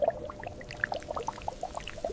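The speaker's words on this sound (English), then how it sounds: "Warm glaze cascading over every donut." Warm glaze pours over donuts on a factory line, a faint, steady liquid trickle broken by small irregular drips and bubbly plops, with no voices.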